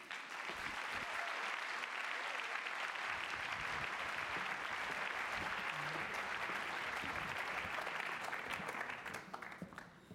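A crowd gives warm applause for a band at the Künstlerbörse 2019 in Thun, sustained and dense for about nine seconds before tapering off.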